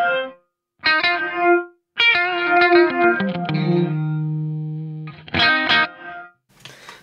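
A BOSS RV-500 reverb pedal runs its reverse non-linear reverb on a distorted guitar, with short bursts of notes swelling and cutting off abruptly, one sustained tone ringing out between stabs.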